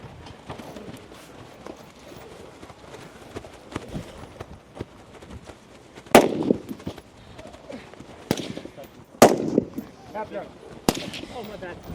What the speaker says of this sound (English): So this will be his 3rd and final iteration with the rifle. 15 shots here.